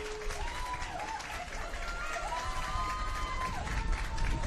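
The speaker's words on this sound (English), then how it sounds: "Both players getting a warm round of applause from the Preston fans in the crowd." Preston fans in the crowd give a warm round of applause at a women's football match, steady clapping with crowd noise and some distant calls, moderately loud throughout.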